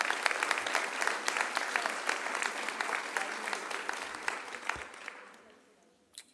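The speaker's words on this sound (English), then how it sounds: "I want a large round of applause for the folks that I have introduced, but mostly for yourselves" Town hall audience in Las Cruces, New Mexico, applauding: dense, steady clapping from a sizable crowd fills most of the stretch, then thins and fades out near the end, with a lone sharp clap at the close.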